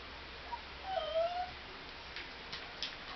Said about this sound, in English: My little dogs are fussing at me.